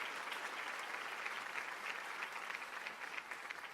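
Dense, continuous applause from a large ceremony audience at the Japanese Cultural Center of Hawai'i fills the space, a steady wash of many hands clapping with slight swells, heard fairly softly and without voices.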